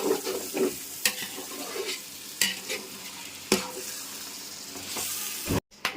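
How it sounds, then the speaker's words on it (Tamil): Ginger garlic paste fries in a pan for chicken biryani, a bright continuous sizzle punctuated by sharp spoon scrapes and knocks as it is stirred, close and fairly loud with no talking. "கொஞ்சம் கிளறி விட்டுட்டோம் இஞ்சி பூண்டு பேஸ்ட்டு போட்டாலும் இதான் தொல்லை உடனே அடி பிடிக்க ஆரம்பிச்சிடும்"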